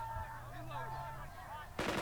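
A short, loud burst of soldiers' gunfire erupts near the end in the wartime strategy game Burden of Command, breaking in over quiet, tonal background music.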